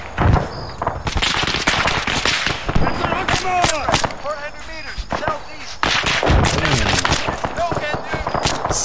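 Gunfire in the Arma 3 military game: rapid bursts and heavy booming shots crack repeatedly in close, dense volleys, with shouted radio-style voice callouts between and under the firing.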